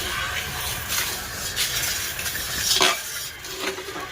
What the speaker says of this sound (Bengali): মাছ ভাজা হয়ে গেল, এখন এই যে মাছটাকে দেখো কালি হবে।